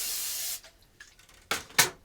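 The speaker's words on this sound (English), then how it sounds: "We're actually going to take some spray oil and spray the inside of this pan." Spray oil misted into the inside of a baking pan, a long steady hiss followed after a pause by two short, sharp bursts, close and clear.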